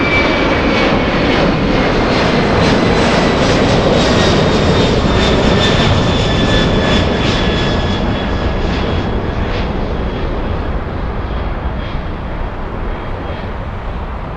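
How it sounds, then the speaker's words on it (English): A Boeing 767 freighter jet taking off at Los Angeles International Airport roars close and loud in a steady, sustained blast of engine noise with a faint high whine, easing slightly as it climbs away. "Close-up takeoff."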